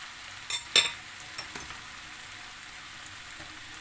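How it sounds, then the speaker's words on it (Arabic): Corn being stirred into a chicken breast mixture in a pan: a low steady sizzle with a few sharp spoon clinks and scrapes near the start, then a quieter simmer with one more light tap. "وغادي نستمر تحريك بجميع العناصر"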